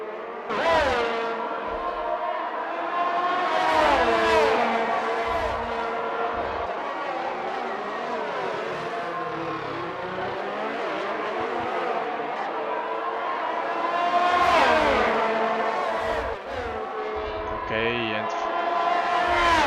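Several race car engines in the F1 2021 game at the Belgian Grand Prix whine and climb through the gears, pitches sweeping up and down steadily over nearly twenty seconds, loud and continuous.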